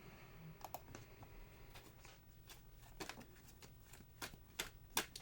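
Tarot cards are handled and shuffled in a quiet room, giving quiet, irregular papery flicks and snaps that grow slightly sharper toward the end, with no talking.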